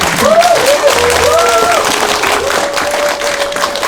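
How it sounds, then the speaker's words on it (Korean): Applause and crowd noise from an audience at a Q&A event with a prime minister, dense clapping throughout with some voices and tones rising through it. "큰 박수 부탁드립니다"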